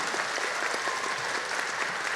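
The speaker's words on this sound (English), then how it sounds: "give her a round of applause" Audience at a school blue ribbon ceremony applauding with steady, dense clapping throughout, loud and continuous with no voices over it.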